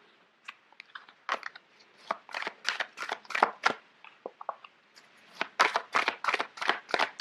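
Large oversized tarot cards being shuffled by hand: a run of papery riffling and slapping bursts, close and fairly quiet, arriving in uneven clusters with short pauses between.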